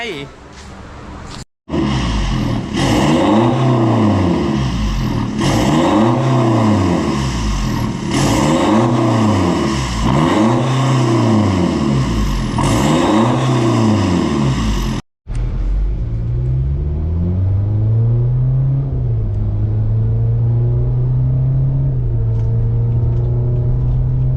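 A BMW F10 with a Euro Arts full aftermarket exhaust revving hard again and again in a rhythmic rise-and-fall pattern, loud and close, then settling into a rumbling idle with slower throttle blips.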